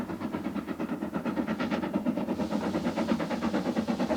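Steam locomotive chuffing in rhythmic pulses, a regular beat of exhaust blasts with a mechanical rumble underneath, moderately loud and steady.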